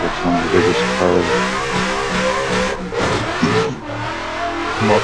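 A large car's engine revs loudly and steadily, the roar rising and falling in continuous waves with no pause and no talk over it.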